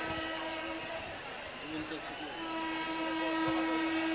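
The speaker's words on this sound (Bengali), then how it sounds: "সাবধানে থাকবেন, ট্রেন আসতেছে।" A passing train with a long steady horn tone over rumbling rail noise, fairly loud and continuous, under a voice during a religious sermon.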